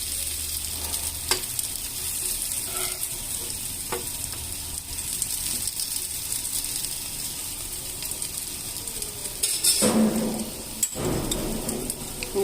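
Old ariselu, a jaggery rice sweet, warming in ghee in a pan over a low flame. A steady soft sizzle and frying crackle runs throughout, with occasional stirring scrapes and a louder clatter near the end.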